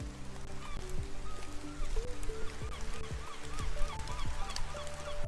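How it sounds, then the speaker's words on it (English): Seagull calls from a fantasy tabletop RPG soundboard, a run of short honking, squawking cries repeating over a steady background wash. "We can add a seagull."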